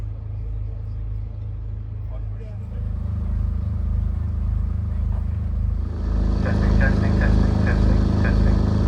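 A historic armoured car idles at a historic vehicle gathering at Powderham Castle, a deep steady engine rumble that swells louder midway, with people talking nearby over it.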